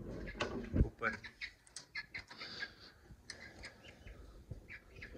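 Australian parrot breeder pairs in an aviary give short chirps and calls, scattered and moderately close, mixed with people talking and some background noise.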